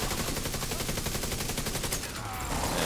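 Rapid automatic gunfire in a shooter video game rattles in a steady, fast stream of shots, loud and continuous for nearly three seconds, with only faint voice underneath.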